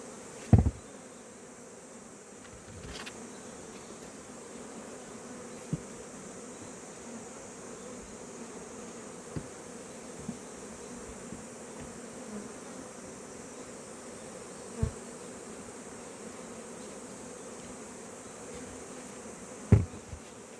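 Honeybees steadily buzzing around a hive while being fed pollen cake, a low continuous droning hum with occasional sharp clicks and knocks from handling the frames.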